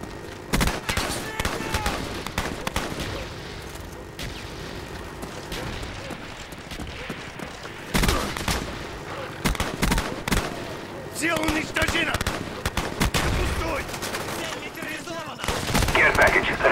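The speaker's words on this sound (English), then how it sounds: "Friendly mortars inbound" Dense video game battle with friendly mortar strikes and gunfire: rapid rifle and machine-gun bursts crackle continuously, punctuated by heavy booming impacts, loud and close throughout, with radio-style voice callouts mixed in.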